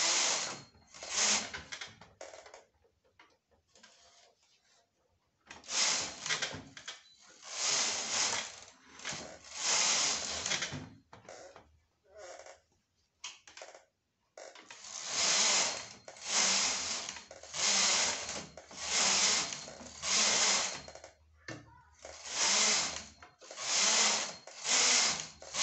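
A domestic knitting machine works rows of a hem for girl's shorts, its carriage sweeping back and forth in a steady run of loud mechanical passes with clattering needles, a pause midway and then regular passes resuming.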